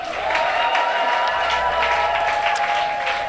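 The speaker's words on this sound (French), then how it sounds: "Si c'est toi, acclame très fort." A church congregation cheers and applauds together, a loud continuous roar of clapping mixed with shouts and sustained voices, close and unbroken throughout.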